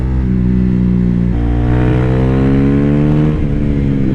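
A 2022 KTM RC 390 sport motorcycle engine revs loudly and steadily up close, its harmonic pitch climbing and holding as the single-cylinder bike runs on a track, with no talking over it.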